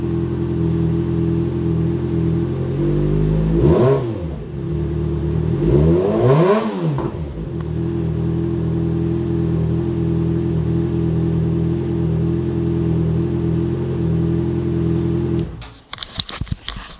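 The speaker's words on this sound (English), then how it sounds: "Give her a good little twist of the throttle." A Yamaha FZ6R motorcycle, warmed up just after an oil change with Motul synthetic, idles steadily at close range, and two quick throttle blips rise and fall before the idle settles and ends in a clatter.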